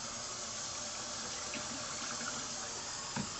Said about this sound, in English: I'm gonna get a cup of water